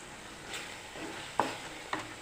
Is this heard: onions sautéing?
yes